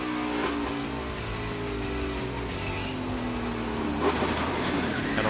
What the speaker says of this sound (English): Watch the downshift.